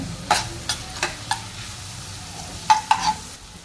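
Curry leaves and chopped onion fry with cumin in hot tempering oil in a pan, under a low sizzle broken by a series of sharp, close stirring taps and scrapes.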